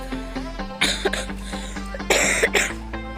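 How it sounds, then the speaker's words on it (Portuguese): Harsh, wet coughing from a person at a campsite while a tent is being pitched by a campfire, several close bursts clustered in two loud spells over a steady crackling background. "que tosse horrível"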